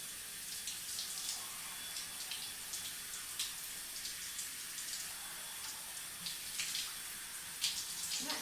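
Steady, soft hiss of running water while shampoo is rinsed out of hair, continuous and even throughout with faint splashes.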